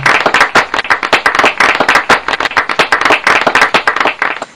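Audience clapping as a nervous student steps up to a podium, a dense, lively patter of hands that holds steady throughout, close and loud with no talking.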